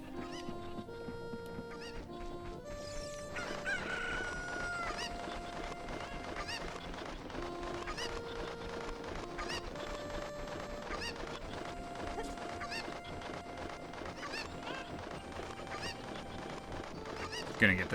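Chickens cluck and squawk in Kakariko Village in Zelda: Ocarina of Time, with scattered honking bird calls mixed into a steady game music tune and no talk over them.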